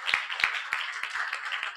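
An audience at a forum on collecting societies gives a round of applause: moderately loud, continuous clapping with a handful of distinct, evenly spaced sharp claps on top, no voices over it.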